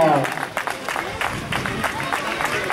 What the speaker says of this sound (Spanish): Ese aplauso para Rabadán que busca la línea de meta.